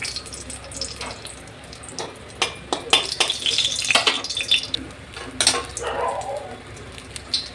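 A green chili dropped into a little hot oil in a wok sizzles with scattered sharp crackles and spits, close and moderately loud, with a few clinks of utensils and no talking.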